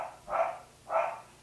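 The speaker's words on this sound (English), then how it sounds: "Do you guys hear Bailey barking?" A dog barks twice, evenly spaced, faint and somewhat distant, with no other sounds.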